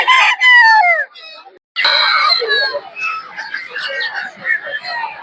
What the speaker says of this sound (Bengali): দেখতে পাচ্ছেন দেশি হাঁস মুরগি